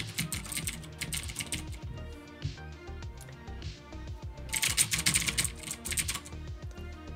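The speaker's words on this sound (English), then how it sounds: "I love how this keyboard sounds." Computer keyboard typed on steadily for several seconds, a busy clatter of close keystrokes with denser bursts partway through, heard alone without talk.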